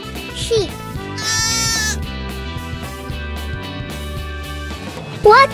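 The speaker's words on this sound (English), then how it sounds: "Sheep." A sheep bleats once in a wavering, held call, with a short cry near the end, over a light musical backing.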